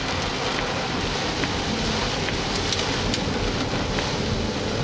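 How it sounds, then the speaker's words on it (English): Hail falling during a storm chase, a dense, steady hiss of stones drumming on a surface, loud and continuous, with some wind. "There's your hail."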